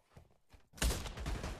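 A burst of gunfire rings out in the shooter video game Pavlov, a loud close volley after a couple of quieter shuffling sounds.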